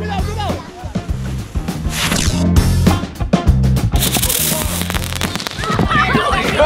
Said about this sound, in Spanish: Petardos extraños con hélices, literalmente parecen helicópteros